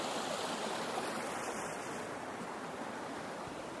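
A waterfall in an abandoned old silica mine area pours steadily, a broad, even rush of water that stays close and constant throughout, with no voices over it.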